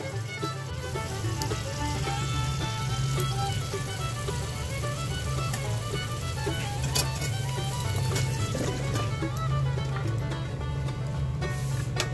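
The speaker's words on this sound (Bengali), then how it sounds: "বন্ধুরা, আমি এখন সবজিগুলো দিয়ে দিচ্ছি তেলের মধ্যে।" Vegetables fry in hot oil, a steady bright crackling sizzle that runs throughout at moderate level, with a low hum beneath and occasional faint clinks.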